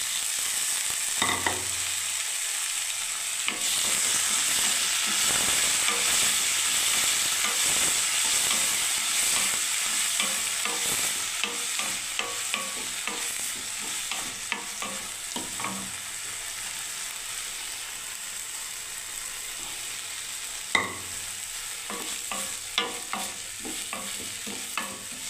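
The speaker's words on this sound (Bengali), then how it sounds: "এবার মুসুরি সেদ্ধটা ফেলে দিচ্ছি বন্ধুরা।" Boiled masoor dal tipped into a pan of frying onion, dried red chilli and cumin, giving a steady close sizzle and hiss with stirring scrapes throughout, no talk.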